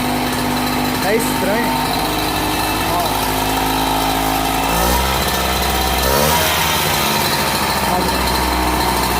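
A two-stroke moped engine with a washer fitted in the exhaust runs at a raised idle with a buzzing, rattly drone, its revs shifting midway, close and loud while someone speaks briefly over it.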